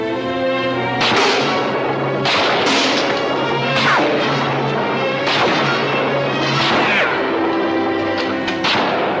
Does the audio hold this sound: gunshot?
yes